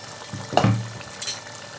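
Fried brinjal pieces tipped into a pan of simmering masala give a short, close sizzle and stir lasting about a second, with a soft bubbling behind it.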